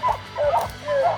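Hunting dogs around a treed bear during a spring bear hunt bark and yip with strained, whining tones in short bursts, close and loud, with outdoor noise underneath.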